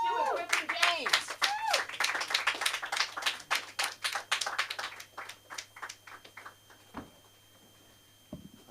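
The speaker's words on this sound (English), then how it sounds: "All the claps ran out before I got up here." Audience applause at a comedy show breaks out in a dense burst of clapping that thins into scattered claps and fades to a few isolated hand claps, with a voice over the start.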